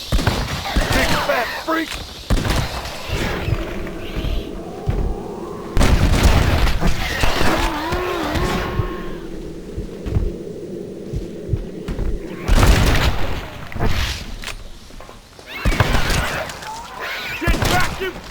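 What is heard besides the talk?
gunfire and explosions in Red Dead Redemption Undead Nightmare video game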